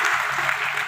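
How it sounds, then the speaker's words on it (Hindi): A brief, dense burst of audience applause at a business talk about RCM products, loud and steady for under a second. "ताली जोरदार वाली बजाय सर"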